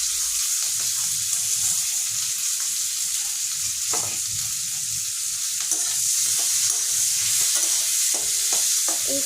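Green chillies and onion fry together in a pan with a continuous hissing sizzle, broken by intermittent scraping stirs, loud and close, with no voices.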